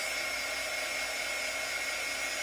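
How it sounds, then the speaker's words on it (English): A heat gun blows over epoxy poured on a decal to pop bubbles, with a steady, even whine and rush of air, constant and close, with no other sounds. "I'm going to turn my heat gun on and try to get those popped."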